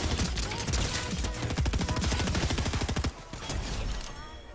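Rapid automatic gunfire from the video game Fortnite rattles in a dense, loud burst for about three seconds, breaks off briefly, then continues with more shooting.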